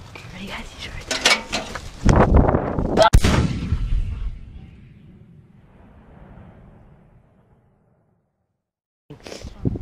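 Guns fired during a game of hide and seek: a burst of sharp, loud shots in quick succession, followed by a fading rumble and quiet, then another abrupt noise at the end.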